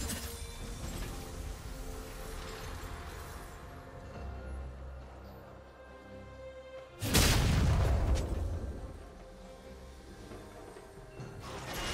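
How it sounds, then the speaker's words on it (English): Turret destroyed in League of Legends: a loud, sudden booming crash about two-thirds through, rising abruptly over steady game background noise and decaying over a second or two. "Blue team's turret has been destroyed."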